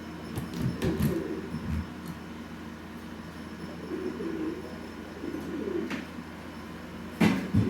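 A pet pigeon or dove cooing softly, with several low, rounded coo phrases repeating at intervals over a faint background hum, close and gentle.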